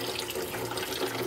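Water sloshes and runs steadily as an item soaks in soapy water in a home kitchen, a continuous close wash of liquid noise with no voices.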